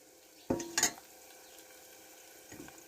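Onions frying in a pan give two sharp bursts of sizzling and stirring early on, then a soft, steady sizzle with a faint stir near the end.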